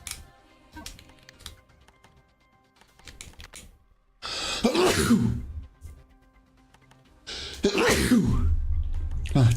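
Two loud, close bursts, each an abrupt broadband blast trailing off, break up quiet clicking and faint background sounds indoors.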